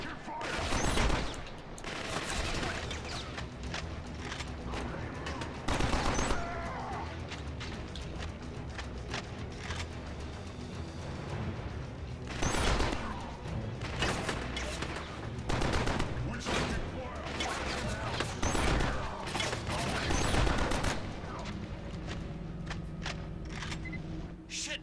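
Near-continuous bursts of automatic gunfire and explosions in Killzone Mercenary, loud and dense across the whole stretch, with voices calling out under the shooting.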